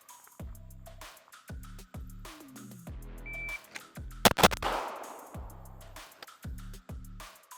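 Pistol gunshots from a Staccato XC and a SIG P320 Spectre Comp, drawn from a Safariland auto-locking holster at a shooting range: sharp reports, with a pair of loud close shots in quick succession mid-clip, amid clicks, electronic timer beeps and quieter handling noises.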